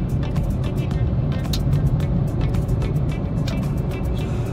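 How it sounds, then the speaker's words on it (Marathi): Heavy road traffic on a busy holiday route near Mira Road, with a steady broadband rumble of many cars and larger vehicles passing close by and brief louder swells from individual passes, continuous throughout without talk. "किती ट्रॅफिक आहे बघा"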